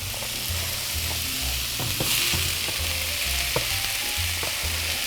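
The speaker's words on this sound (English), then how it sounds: "We're going to go ahead with our shallots and our garlic." Shallots and garlic sizzle in a hot pan, a steady close fry with stirring scrapes and occasional taps of a utensil.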